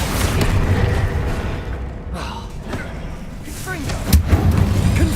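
Repeated Confringo and Bombarda spell blasts from Hogwarts Legacy, a string of booming thuds and impacts mixed with game effects and a voice casting between hits, loud and continuous.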